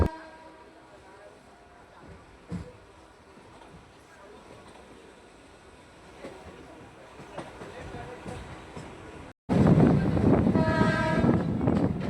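A local train curves off the main line toward Budge Budge with a low, rumbling ride under faint clicks, then a sudden loud surge of wheel roar and grinding noise near the end.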